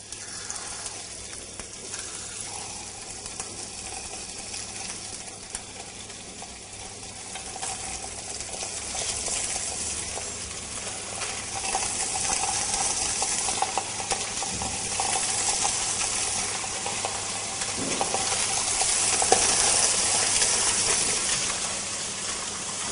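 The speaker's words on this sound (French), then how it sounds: "La poêle doit être bien chaude. Et saisir le poisson du côté peau" Sole fillets searing skin-side down in a very hot pan, a loud continuous sizzle and crackle that swells gradually over time, close by, with occasional faint scraping and no voices.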